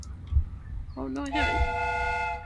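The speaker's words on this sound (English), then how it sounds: "I primed the whistle" A replica train whistle in the Sherlock Holmes: Crimes & Punishments video game sounds a rising tone that settles into a sustained, steady multi-note whistle over a rumbling, noisy background.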